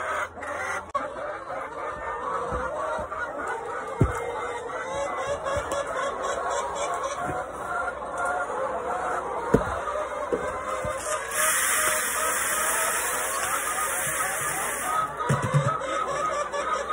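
Hens clucking steadily outdoors, with scattered soft bawks and a few sharp calls over a constant background hiss.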